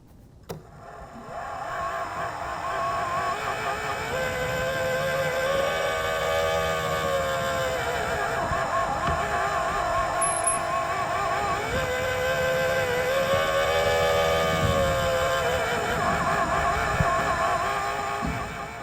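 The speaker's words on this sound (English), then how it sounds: "the next recording is just what the gears sound like" Gears turning in an art installation give a continuous mechanical drone with a wavering, sweeping whine that rises and falls over the long stretch, steady and fairly loud, with no voices.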